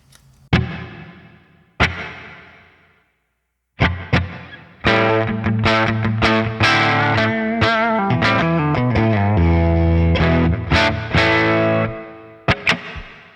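Electric guitar played through a Line 6 Pod Express with a mild hall reverb and a driven, effected tone. A few single struck notes ring out, then a sustained run of chords and melody follows, with a short reverb tail.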